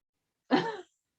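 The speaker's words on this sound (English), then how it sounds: "Artemis begins coughing violently" One short, rough cough or throat-clear, close and fairly loud, standing alone against silence.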